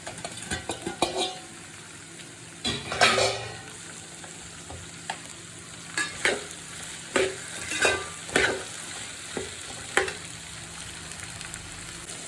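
Green chilies are sautéed in a pan for fish pickle, with a soft sizzle beneath repeated spatula scrapes and clinks against the pan, coming in irregular bursts.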